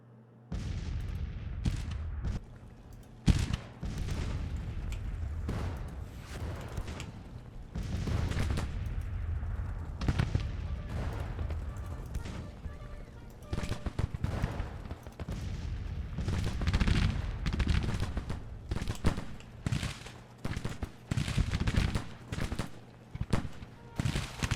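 Heavy artillery fire from a Union campaign battle in Age of Mythology, with repeated deep booms and crackling gunfire volleys rolling on loud and dense throughout, no talk over it.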